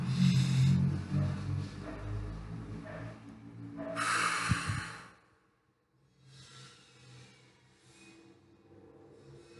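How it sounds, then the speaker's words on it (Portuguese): Slow, deep breathing exercise with long, drawn-out inhales and exhales, soft breathy rushes close to the mic, alone without talk, the breath sound fading to near silence midway. "De preferência, inspirar e expirar lentamente."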